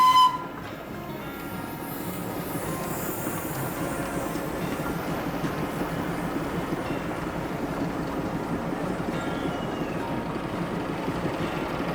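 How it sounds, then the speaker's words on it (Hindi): The Darjeeling toy train rumbles steadily into Ghum railway station, a continuous low clattering drone of rolling carriages heard from nearby without talk. "हमारे पीछे एक टॉय ट्रेन आ रही है धुआं छोड़ते हुए"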